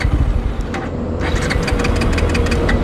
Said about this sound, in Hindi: आप देख रहे हैं बाइक स्टार्ट नहीं हो रहा है।